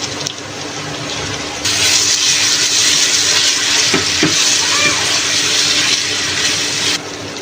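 Ginger garlic paste hits fried onions in a pot for chicken biryani, giving a loud, steady sizzle that swells suddenly after a quieter start and continues close and unbroken.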